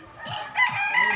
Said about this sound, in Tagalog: Kadaming manok.